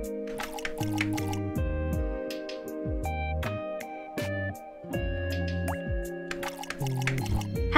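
Watery drips, plops and squishy fills from watering a sapling in the video game Melatonin, falling in a regular rhythm over tonal game music, with no talk.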